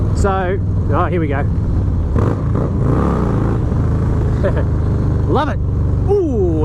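A Harley-Davidson Low Rider S (FXDLS) fitted with a Two Brothers 2-into-1 exhaust rumbles steadily at idle, low and continuous beneath someone talking excitedly.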